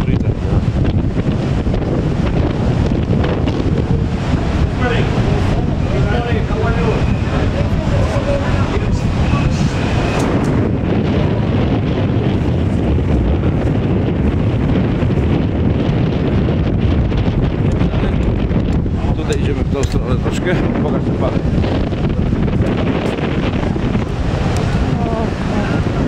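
Strong wind roars across the microphone as waves crash and surge on a stormy sea at Benidorm, Spain. The loud, continuous gusting and surf fill the whole stretch.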